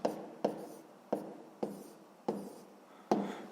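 Pen or chalk writing out a sixth-grade math problem: about six scratchy, evenly spaced strokes, each starting with a sharp tap and fading quickly, close and clear with no talking.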